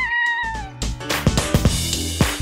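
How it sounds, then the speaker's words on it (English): A cat meows with a drawn-out, falling cry up close, followed by a few short thumps and rustles with no speech. "Cat."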